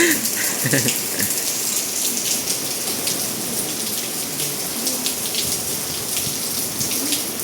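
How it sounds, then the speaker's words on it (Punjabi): Heavy rain pours down steadily at night in Rajasthan, a dense, unbroken wash of patter and splashing throughout, with no talking heard. "ਫੁੱਲ ਬਾਰਿਸ਼ ਹੋ ਰਹੀ ਹੈ ਸਰ"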